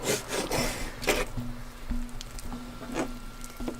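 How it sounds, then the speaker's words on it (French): A big knife chopping about six strips of bacon into small cubes on a board, with repeated close, scraping cuts in an uneven rhythm and no talk. "Pendant que Josiane découpe le bacon"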